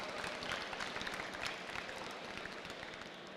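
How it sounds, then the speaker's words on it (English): Audience applause at the Bitcamp 2025 opening ceremony, a dense, even patter of many hands clapping from a crowd, moderately distant and fairly quiet, continuing without talk. "let's give them another round of applause"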